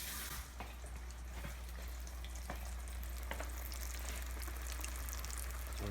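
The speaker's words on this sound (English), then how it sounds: "So we have them in our fryer." Falafel balls deep-frying in a fryer give a steady, loud bubbling sizzle with occasional sharper pops and crackles, continuous throughout with no talking.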